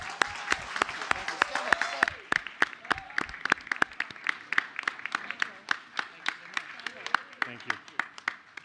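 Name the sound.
applause for high school students at school board meeting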